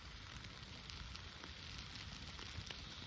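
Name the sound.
sausages sizzling on charcoal grill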